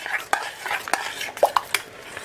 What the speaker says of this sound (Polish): Marmolada się już gotuje.